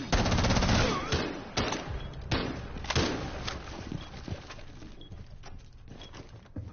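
Rapid gunfire in Rainbow Six Siege, bursts of sharp shots cracking in quick succession and loud up close, thinning to scattered single shots toward the end.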